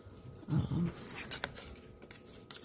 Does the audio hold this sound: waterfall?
no